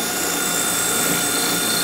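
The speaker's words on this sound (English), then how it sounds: "I'm gonna use a regular drill to demonstrate." A regular variable-speed drill bores a hole for a Tapcon screw, giving a steady, close, high-pitched whine that runs without a break for about two seconds, with no talking.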